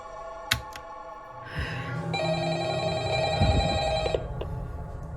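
A telephone rings with an incoming call in a dark, enclosed setting like a security office, a repeating electronic ring over low background noise and faint shuffling.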